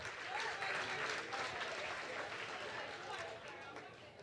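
Sustained audience applause fills an awards gala hall, a dense steady wash of many hands clapping throughout and easing slightly near the end, with faint crowd murmur mixed in.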